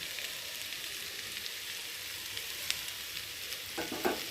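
Potatoes and onions fry in a pan with ginger, garlic and cumin pastes, chilli powder, turmeric and salt, a steady close sizzle with a brief stirring scrape near the end.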